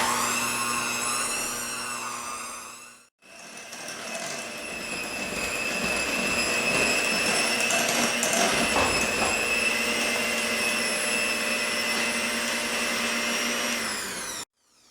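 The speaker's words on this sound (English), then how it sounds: "So I'm using an electric whisk." An electric hand whisk creams butter and sugar for sugar cookie dough, a loud steady motor whine with a whirring high tone, briefly cutting out near the start before running continuously, then stopping at the end.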